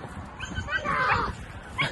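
A dog gives short whimpering yips and a bark-like cry outdoors in the countryside, near and fairly loud, mixed with a person's voice over a low background hum.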